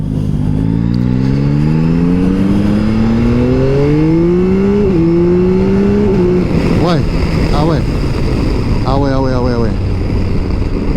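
A Yamaha Tracer GT+ motorcycle engine in sport mode, revving and rising in pitch through several gears with sharp drops at each shift, loud and close, then blipping in quick bursts near the end.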